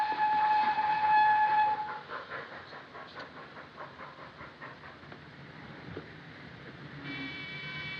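Train at a railway station in wartime Britain, a steady rolling rumble of carriages with a whistle tone at the start and again near the end, moderately distant.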